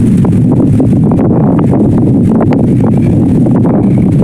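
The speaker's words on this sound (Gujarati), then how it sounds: "જાંબુડા ખાવાનું બહુ મન થાય છે, પણ પવન એ બહુ છે." Strong wind buffets the microphone outdoors on a village farm in Gujarat in a constant loud roar with gusty rustling throughout, no voices.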